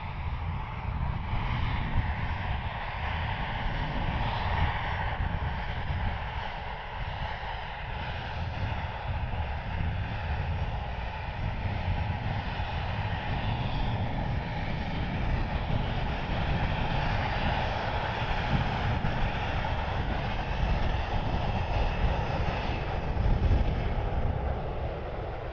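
An American Airlines jet turns on the runway and takes off at Cleveland Hopkins airport, producing a steady, broad engine roar that swells slightly as it goes, with some wind buffeting and no voices.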